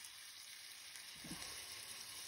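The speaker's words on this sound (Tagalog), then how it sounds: "Prito lang natin yan sa low medium fire." Quiet, steady sizzling of marinated chicken breast frying in hot oil over low-medium heat, a soft continuous crackle with a brief low clunk partway through.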